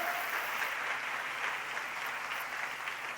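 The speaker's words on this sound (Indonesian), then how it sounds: "Tepuk tangan yang lebih meriah lagi bagi dia." Congregation applauding during a church sermon, a dense, even wash of clapping from a crowd heard throughout at steady, fairly loud level with no voice over it.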